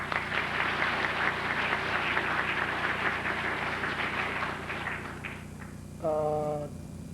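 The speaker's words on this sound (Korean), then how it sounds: "축복하는 박수 해주시면 고맙겠습니다." Church congregation applauding to bless a newlywed couple at a Korean church anniversary service: sustained, dense clapping filling the room for several seconds, fading slightly before a brief tonal sound near the end.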